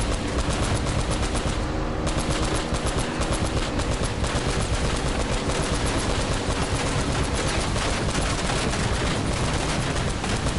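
Sustained gunfire from the video game Uncharted: Drake's Fortune, a dense, continuous rattle of rapid shots filling the whole stretch, loud and close with no pauses.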